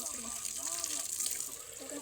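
Tap water runs steadily while a container is rinsed and cleaned during farm chores, a continuous close hiss and splash with a faint voice underneath.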